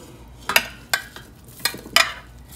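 Roasted vegetables are tipped into a stock pot, giving four or five separate clattering thuds and scrapes against the metal over a couple of seconds, close and fairly loud, with no voices.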